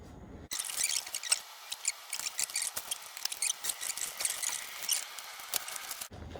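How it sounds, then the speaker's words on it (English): A scalpel slices open a plastic dissection specimen bag, making crinkly rustling and scratchy cutting sounds close by for several seconds, starting and stopping abruptly. "use the scalpel, which I will remove carefully. And we are going to cut open this bag"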